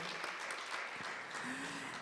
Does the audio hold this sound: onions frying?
no